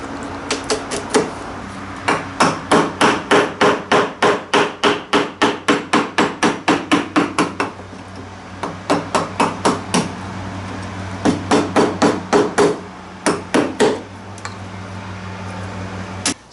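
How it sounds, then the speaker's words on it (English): A chisel is struck with a mallet to cut out wood for a wooden boat thwart. Dozens of loud, close, evenly paced blows come in long runs, separated by brief pauses. "just going to score through here so that as I chisel it out, I'm not going to rip pieces off the front face"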